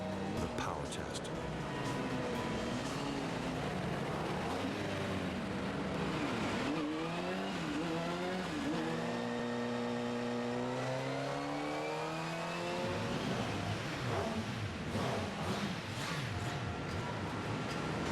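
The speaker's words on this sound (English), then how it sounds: "They fire up the engine for the first time, letting it warm up before the very last step, the power test." Kawasaki motorcycle engine fired up and warming up at factory inspection, rising and falling revs with shifting engine pitch, heard beneath continuous speech and busy factory background noise.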